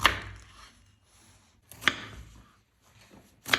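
A knife slicing fresh, cored cabbage into thin strips on a board: three sharp, separate cuts spaced well apart, close and crisp, with quiet gaps between them and no talking.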